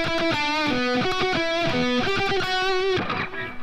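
A distorted electric guitar plays a melodic single-note line, steady and fairly loud, with quick repeated notes and short slides between pitches.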